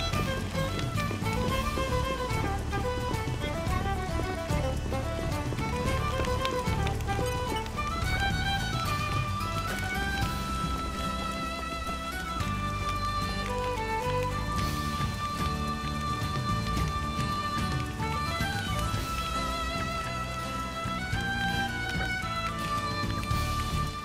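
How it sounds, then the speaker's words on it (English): Rain falls in the video game Xenoblade Chronicles 2 as a steady soft patter beneath a prominent melodic music score, continuous throughout with no speech. "It's raining out. It's like really raining out."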